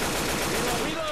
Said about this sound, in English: Oh, more fireworks.